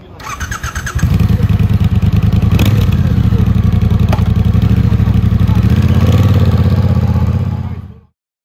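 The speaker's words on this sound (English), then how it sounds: "Let's take a listen to the bike." A 2022 Triumph Bonneville Bobber motorcycle engine starts with a short crank, then runs close and loud in a fast, even throbbing idle with lumpy exhaust pulses before cutting off abruptly at the end.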